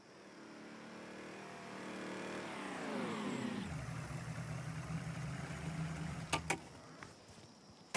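A car engine warms up in the video game Mafia Definitive Edition, revving upward then dropping to a steady rumbling idle, with a couple of sharp clicks near the end.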